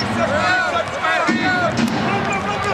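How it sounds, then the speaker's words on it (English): Basketball arena crowd at a 1997 Bulls versus Jazz game rising into a loud, continuous roar of voices and cheers, with scattered shouts and whistles over the rumble. "The crowd starts to make some noise here."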